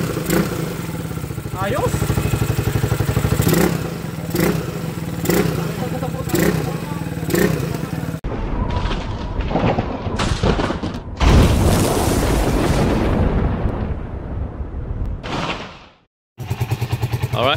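A Honda TMX 155 motorcycle converted to 200cc with a 28mm carburetor, its engine running and revving close by, with a brief break in the sound and someone talking briefly over it.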